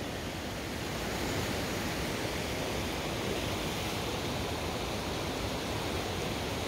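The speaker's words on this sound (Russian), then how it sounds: "поток такой нереальный. Водопад прямо." A rushing mountain stream roars like a waterfall near Lake Synevyr in Ukraine, a dense, constant close-up wash of water with no other sounds.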